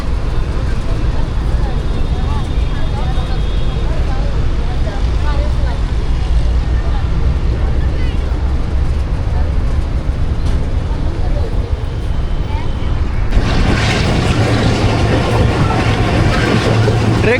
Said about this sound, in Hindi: फर्स्ट डिपार्चर विसल हो गया और सेकंड विसल के साथ मूव होना शुरू हो गई हमारी ट्रेन